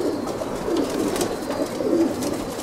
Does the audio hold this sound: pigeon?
yes